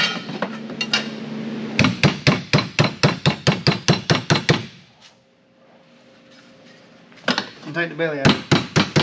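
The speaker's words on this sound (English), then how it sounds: "So we're just going to take the hammer stretcher here." A hammer stretcher pounds sheet metal in a car rust repair: a rapid run of loud, ringing metallic blows, a pause where someone speaks briefly, then more strikes.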